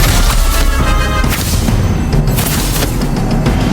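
A Confringo blasting spell explodes in the game Magic Awakened, producing a loud, dense booming blast with heavy rumbling that stays saturated for the few seconds, without talk.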